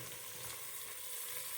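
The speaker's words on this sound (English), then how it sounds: "I'm giving this a light saute, no browning" Greens, likely kale, saute lightly in a pan with a little grease, producing a faint, even hiss and gentle sizzle over a brief moment.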